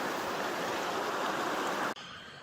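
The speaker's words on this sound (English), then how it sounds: "a little creek running by there" A small creek running under a bridge on a backpacking trail, a steady, dense rushing of water close by, cutting off abruptly near the end.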